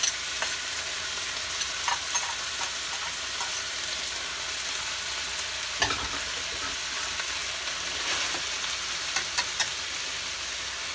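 Mushrooms frying in a pan of beef grease, a steady dense sizzle throughout with scattered scrapes and clicks of stirring, close and fairly loud, no voices.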